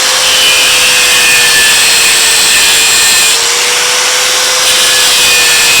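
A power tool cuts wooden pieces for a homemade rocking horse, producing a loud, steady high-pitched whine with a constant tone throughout, close up and without speech.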